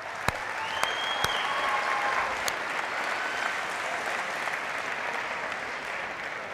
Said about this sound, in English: Please give yourselves a big round of applause.